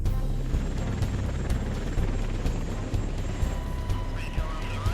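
A Black Hawk helicopter hovering during a mountain rescue, its rotor sending a continuous loud, close throbbing drone with regular beating pulses through the whole stretch.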